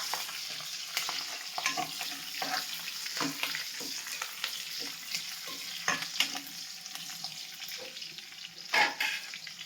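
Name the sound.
green chillies frying in a pan for Nellore chicken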